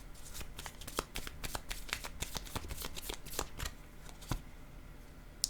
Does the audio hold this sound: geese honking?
no